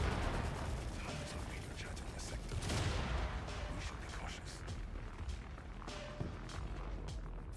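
Gunfire aimed at robots in the video game The Forever Winter rattles in dense, rapid bursts of sharp cracks and clatter, continuous and busy throughout.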